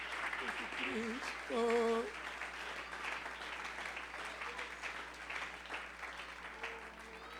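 A church congregation applauds a sermon about God the Saviour, a dense, steady wash of clapping that rises briefly and carries on under a preacher's voice.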